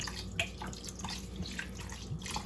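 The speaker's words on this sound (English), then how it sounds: "I'm just gonna put a little bit of my red label wine in it, just a little bit." Red label wine is poured over fruits set to soak for a Jamaican black Christmas cake, a close, soft trickling splash of liquid lasting a couple of seconds with no talk.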